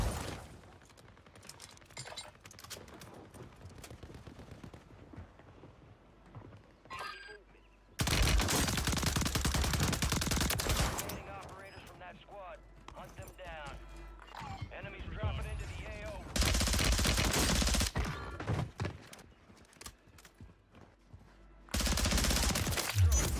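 Rapid automatic gunfire from a weapon in the video game Warzone, loud sustained bursts coming in several long stretches, with quieter game sounds and sparse talk between them.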